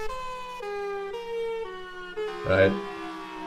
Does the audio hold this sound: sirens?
yes